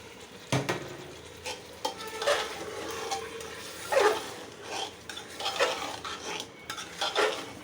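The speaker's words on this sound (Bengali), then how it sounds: "এখন একটু চালটা ভাজা ভাজা করব" Rice being stirred and fried in a pot for beef bhuna khichuri, a close, steady run of sizzling with repeated scraping strokes of a utensil and clinks against the pot, no talking.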